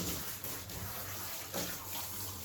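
Running water rinsing a cockapoo during grooming, a steady close spray or tap stream with shifting splashes, rather quiet and without talk.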